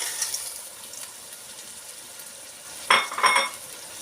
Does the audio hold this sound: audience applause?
no